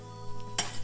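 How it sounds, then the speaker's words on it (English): Steady hiss of onions sizzling slowly on a hot griddle, with a brief louder crackle burst partway through and a low hum underneath. "they can just sizzle slowly on the side"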